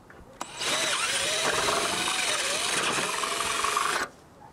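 A power drill fitted with a 7.7 mm bit bores a hole while fitting sill moldings on a VAZ 2101 Zhiguli, a steady close whine running about three seconds after a small click, then stopping abruptly.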